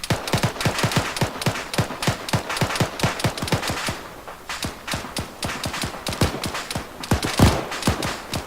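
Rapid, steady bursts of gunfire in a military video game, sharp shots repeating densely throughout with a brief lull near the middle before the firing resumes, loud and close.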